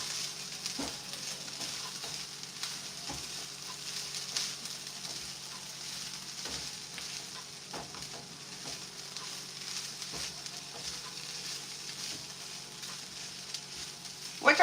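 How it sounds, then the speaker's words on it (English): Fried rice is stirred in a hot pan, giving steady sizzling and frying with repeated scraping and stirring strokes throughout, fairly close and continuous. "Let's give this another stir."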